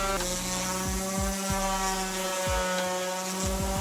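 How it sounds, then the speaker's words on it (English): A power sander working an oak dowel flush and smooth, a steady high whine with repeated short drops in pitch as the tool is pressed and lifted against the wood, close and alone. "I really had to focus just on that oak dowel just to get it flat"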